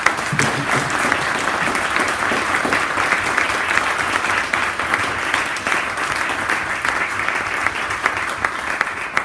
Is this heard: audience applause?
yes